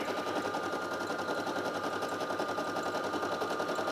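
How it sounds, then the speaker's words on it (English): A Brother PE800 embroidery machine stitches out a letter B, its needle chattering in a fast, even, continuous rhythm, close and steady with a faint tonal whine throughout. "It's embroidering a B right now."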